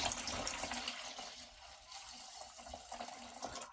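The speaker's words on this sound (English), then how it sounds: "I'm going to put a little bit of my second bucket of water in there." Water poured from a bucket into a gold pan, a faint, continuous splashing trickle that swells and eases over a few seconds.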